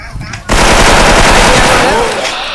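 Machine gun fire in a first-person shooter game, starting after a brief quieter moment and then a loud, sustained stream of rapid shots that tails off slightly at the end.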